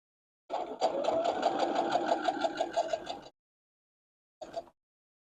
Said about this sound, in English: I like to stop with the needle down and adjust my block if needed before I finish the seam.